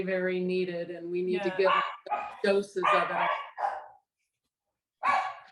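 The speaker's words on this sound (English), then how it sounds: "I apologize for my dogs barking." Dogs barking at home send short, sharp barks and yips into and between a person's speech, fairly close and loud.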